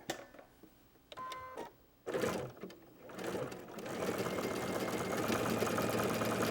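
A home sewing machine runs a wobble stitch sample set to 1.5 width and 3.0 length, starting in a few short bursts and then settling into a steady, close, continuous whir.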